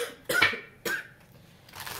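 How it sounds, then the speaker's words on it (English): A person coughs twice close to the microphone in short, sharp bursts about half a second apart, followed by a softer throat sound. "I don't know why I'm coughing all of a sudden."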